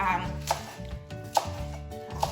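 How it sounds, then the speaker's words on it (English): A knife chops kale into small pieces on a cutting board in a home kitchen, with three distinct chops spaced about a second apart over a low steady background hum. "You just have to chop the kale in small pieces, not too small"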